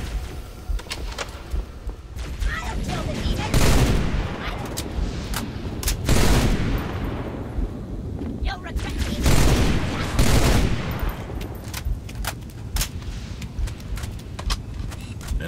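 Dense automatic gunfire and heavy blasts in Halo Reach, a modded campaign firefight with rattling bursts and periodic loud booming impacts over roughly fifteen seconds, with faint voices in the mix.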